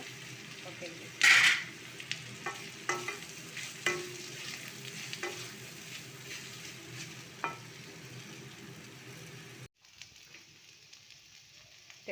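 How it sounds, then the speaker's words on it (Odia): Okra frying in a kadai of oil with chilies and tempering spices, a continuous sizzle broken by repeated stirring clinks and scrapes, with one loud splattering burst early on; the sizzle cuts out abruptly near the end, leaving faint room noise. "ବର୍ତ୍ତମାନ ସେଇ ତେଲରେ ମୁଁ ଭେଣ୍ଡିକୁ ଭାଜିବି। ଟିକେ ଫୁଟଣ ପକାଇଦେଲି, ଲଙ୍କା ପକାଇଦେଲି, ରଖିଥିବା ଭେଣ୍ଡିକୁ ମୁଁ ପକାଇଦେଲି।"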